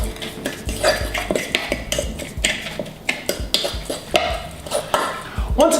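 Salmon crab cake mixture with breadcrumbs, salt and pepper being stirred and mashed together in a bowl, close and fairly loud, with steady scraping and clinking of a utensil against the dish and no talk.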